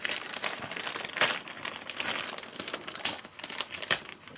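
A sealed package of spare Sony HDR-CX625 camcorder batteries is unwrapped, with close, continuous crinkling and crumpling of packaging in irregular bursts.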